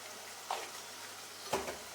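Spiced vegetable bhaji being stirred in a pan, two quiet scraping strokes of a spoon against the pan over a faint sizzle, close and soft.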